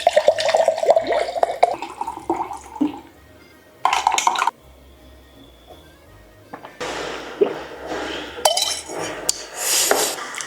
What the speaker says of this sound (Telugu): వాటర్ పోసుకొని